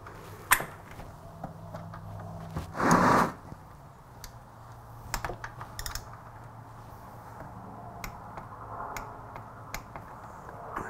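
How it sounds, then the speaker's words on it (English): A torque wrench tightens the oil filter on a Kawasaki Z900 motorcycle, giving a few sharp close mechanical clicks and ticks around one short rasping burst, with no talking. "we'll put our oil filter wrench on here, and we'll tighten it to 17"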